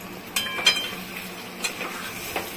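Mutton curry is stirred in a pan: a few sharp scrapes and clinks of a spoon against metal over a faint, low sizzle, with no voices.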